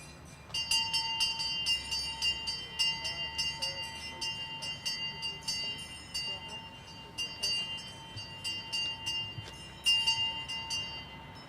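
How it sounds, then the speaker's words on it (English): Memorial bells ring in a steady series of strikes at a September 11 groundbreaking ceremony, long sustained tones lingering between them, fairly loud and resonant, with low background rumble underneath. "we're going to have the ringing of the bells"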